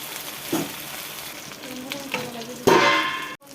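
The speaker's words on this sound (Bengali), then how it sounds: "কচুগুলো ভেজে নেব বন্ধুরা" Taro pieces frying in oil for a fish curry, a steady close sizzle broken by a few spatula clinks, then a loud burst of spitting oil before it cuts off.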